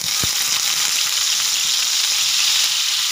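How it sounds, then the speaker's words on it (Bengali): Paneer cubes frying in white oil in a hot wok, giving a steady, close sizzle that holds at an even level throughout, with no talking. "এবার আমি পনিরটাকে ভেজে নেব।"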